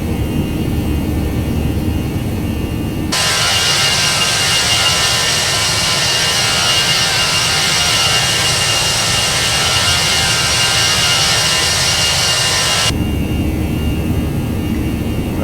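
Jet engines of a ToLiss A319 airliner roar steadily at top of climb in the X-Plane 11 flight simulator, a broad, constant rush that swells louder for about ten seconds before easing back to a lower hum.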